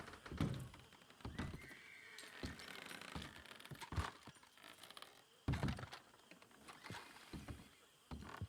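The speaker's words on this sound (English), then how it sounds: "I thought I heard a horse." Horse neighing in a western role-play video game, faint whinnies mixed with hoof clops and thunks, sounding fairly distant and quiet.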